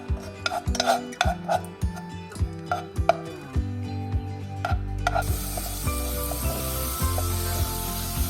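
Ginger garlic paste sizzles in oil in a hot pan while a utensil taps and scrapes repeatedly; the frying hiss swells louder and steadier partway through.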